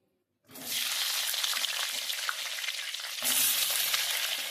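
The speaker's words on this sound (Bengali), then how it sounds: "এবার ধুয়ে রাখা পটলগুলো আমি তেলের মধ্যে ছেড়ে দিচ্ছি" Washed pointed gourd (potol) pieces drop into hot oil, setting off a steady, loud sizzle that starts abruptly and holds throughout, growing slightly louder near the end.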